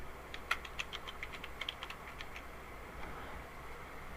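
Faint typing on a computer keyboard, a short run of light irregular key clicks that thins out toward the end, heard alone without talk.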